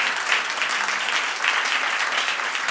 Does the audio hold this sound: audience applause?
yes